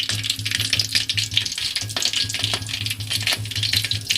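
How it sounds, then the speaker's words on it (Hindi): Keema kachori fry gently in ghee that is kept only moderately hot. A steady, close sizzle of bubbling crackle runs under a soft, rhythmically pulsing low hum, and no one speaks. "घी हमने ज़्यादा गर्म नहीं रखना है ताकि ये इसमें आराम से पकते जाएं"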